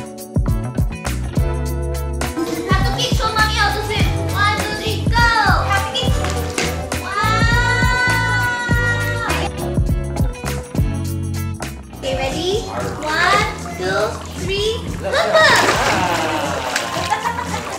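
A young child kicks and splashes in a villa swimming pool, with choppy water splashes and sloshing close by and continuing throughout, mixed with children's excited voices and chatter.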